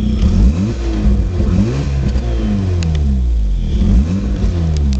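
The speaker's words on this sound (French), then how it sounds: "moteur vire à merveille" A Mazda RX-7's rotary engine revving in repeated rising and falling sweeps, loud and close, with a rough, buzzy note and no talking over it.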